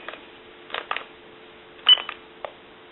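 A touch-tone telephone dials a time and temperature number: a handful of short, faint tone beeps in an uneven rhythm over a quiet, thin-sounding line.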